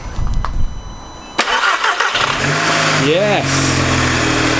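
An Audi TTS 8J engine, fire-damaged and repaired with new coil packs, cranks and catches, then settles into a steady, loud idle, with a brief spoken word near the start.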